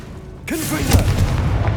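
Fiery blasting spell in the Hogwarts Legacy game on PlayStation 5: a sudden loud boom erupts after a quiet moment, followed by a rumbling, crackling tail.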